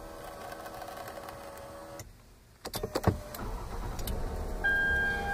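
A Lexus ES 350 starts from its push button: a quiet cabin hum, a brief pause, then a few clicks and a quick cranking burst as the engine catches and settles into a low idle, followed by a soft chime.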